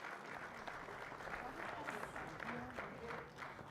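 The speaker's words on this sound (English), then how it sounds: "But can we give the Deputy Minister a hand of applause?" An audience applauds the Deputy Minister at a Bafana Bafana World Cup send-off with President Ramaphosa, dense steady clapping that stays fairly even, with crowd voices mixed in.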